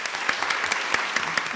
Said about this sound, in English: So just applaud if this question applies to you.